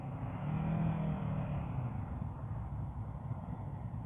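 A 2022 Kawasaki Versys 650 motorcycle rolls along at slow speed, its engine a steady low drone that swells slightly and then settles, with no voices over it.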